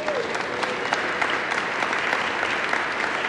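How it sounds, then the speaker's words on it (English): Steady, dense applause from a city commission swearing-in audience honoring the chief of staff, a continuous wash of many hands clapping at even loudness throughout, with no pauses. "Big round of applause for Steve."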